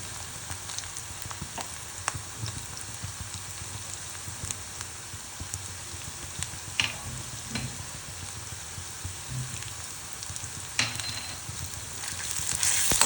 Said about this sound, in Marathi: आता आपण ह्याच्यामध्ये अद्रक लसूणची पेस्ट आणि कढीपत्ता टाकून घेऊ